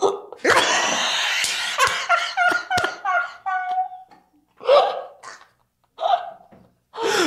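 A person hiccups repeatedly between bursts of laughter, sharp clipped gulps mixed with giggling and breathy snickers, loud and close, with pauses between the last few hiccups.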